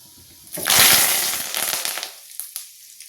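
Curry leaves hit hot oil for Sujir upma, bursting into a loud spattering sizzle that crackles and pops, then dies away over a few seconds.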